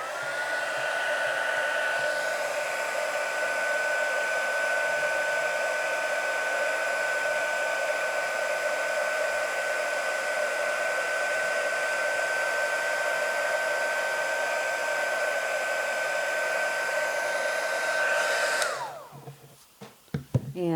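An embossing heat tool heat-sets powder on a stamped card, producing a loud, steady blowing whir that runs nearly twenty seconds before cutting off abruptly, followed by brief handling noises.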